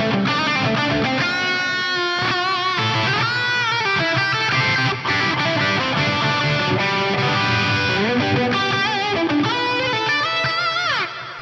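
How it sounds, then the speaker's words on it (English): Electric guitar played through the Axe-Fx III Echo Hall preset, a blend of reverb and echo, rings out loud and sustained with notes washing into trailing repeats, and no talking. "if you want a kind of cross between reverb and echo in the one preset, try out this Echo Hall preset."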